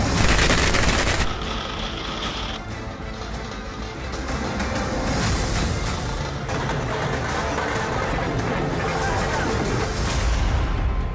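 Firecrackers going off at a celebration of a block pramukh election win, heard as a dense, continuous crackle of rapid bursts throughout, with crowd noise and talk mixed in.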